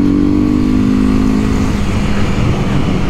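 Honda CB 300F Twister motorcycle with its engine revving, holding a steady high tone before breaking into rougher, rising revs, close and loud with no one talking.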